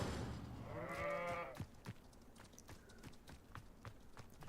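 A goat in the Hogwarts Legacy video game gives one short bleat near the start, followed by soft hoof-like clopping steps and light taps that continue at low volume.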